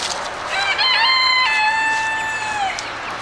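A chicken on a farm along a hiking trail gives a drawn-out crowing call, close and clear, with a few clucks before it and a quiet outdoor background.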